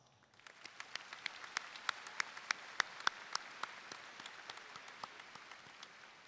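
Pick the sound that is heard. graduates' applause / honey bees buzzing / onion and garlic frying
graduates' applause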